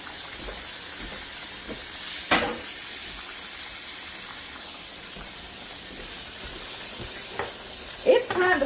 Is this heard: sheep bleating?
no